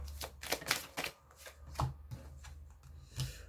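A deck of tarot cards being shuffled by hand during a card reading: a close, quiet flurry of papery riffles and soft slaps, several quick bursts then fading pats.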